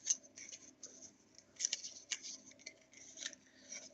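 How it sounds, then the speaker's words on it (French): Scissors snip through wrapping paper while preparing Christmas guest gifts, a quiet, close series of crisp irregular cuts and rustles with no talking. "Je vais couper le papier, je vais prendre mes ciseaux."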